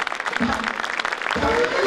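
Applause from an audience at a 2010 fashion show, a dense wash of clapping that continues steadily while a voice speaks over it.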